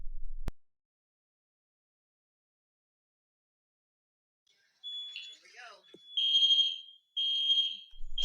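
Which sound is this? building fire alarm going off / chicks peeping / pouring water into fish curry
building fire alarm going off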